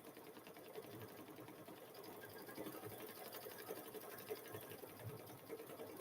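An embroidery machine stitching a chicken-themed quilt in the hoop whirs steadily for the whole stretch, a fast, even mechanical chatter at moderate level with no talking over it.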